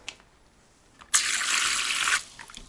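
Water gushes from a livestock drinker tap opened for testing, a bright steady splash that runs for about a second then stops, with faint drips before and after.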